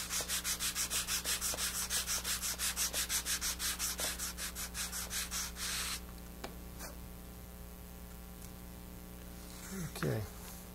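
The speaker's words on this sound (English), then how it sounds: "these three fingers are pushing the wood into the sandpaper" Wood wedge hand-sanded at an angle on sandpaper: a steady rhythmic rasping of regular back-and-forth strokes up close, which stops partway through, leaving a quieter hum with faint handling noises.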